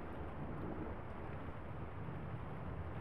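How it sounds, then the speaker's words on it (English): A steady storm ambience plays in the video game The Lion's Song, quiet continuous rain-like hiss with a low distant rumble of thunder underneath, no talk. "What about that storm?"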